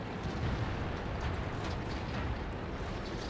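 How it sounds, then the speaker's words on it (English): A World of Tanks T30 tank fires its gun and the shell bounces off an enemy hull, a dense rumbling blast and roar filling the whole moment with no talk over it. "I shoot him, but I get an unlucky bounce"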